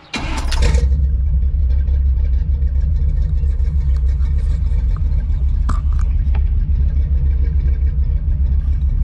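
A C10's engine, with its ignition timing turned down a little, idles steadily with a deep, constant rumble throughout, after a brief louder burst at the start.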